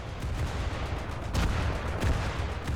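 Battleship Scharnhorst's secondary and flak guns firing in War Thunder: a continuous dense rattle of rapid shots and booms with a couple of heavier bursts, loud and unbroken, with no voices.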